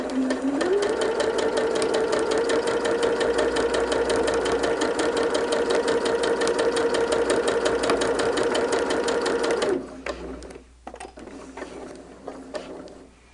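A sewing machine runs steadily for about ten seconds, back stitching quilt block borders with a close, rapid, even mechanical hum, then stops and gives way to quieter clicks and handling noises.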